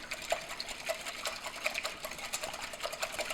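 Wire whisk beating four large room-temperature eggs in a bowl, a quick continuous rattling clatter at moderate level with no talking.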